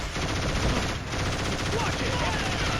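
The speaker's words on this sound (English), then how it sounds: "we've got the high ground and a machine gun" Mounted machine gun in the shooter Killzone firing sustained bursts down on Helghast enemies from high ground, a continuous rattling stream of loud gunfire with battle ambience.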